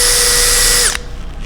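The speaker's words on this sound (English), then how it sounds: "Then I'm going to switch to a tinier drill bit and then drill that a little bit deeper." A power drill with a small bit bores into wood with a loud, steady high whine that winds down abruptly just under a second in, leaving quiet shuffling.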